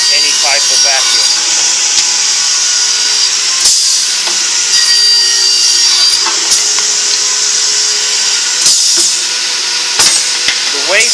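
A wedge saw cuts wood with a steady, loud whine and rasp, with a few sharp knocks along the way.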